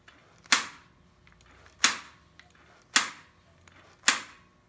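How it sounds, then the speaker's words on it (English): Vintage British motorcycle carburetor throttle slide, freshly cleaned and lightly oiled, snapping back down into place four times at a steady pace; each sharp metallic click is close and crisp, with a brief decay and near silence between. "That's the slide snapping back down into place."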